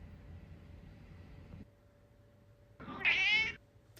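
A single close, clear cat meow rising and falling over about half a second, following a stretch of low background hum.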